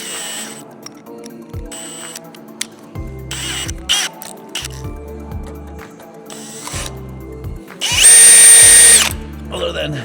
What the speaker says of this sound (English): Drill, put in a bit, drill some holes.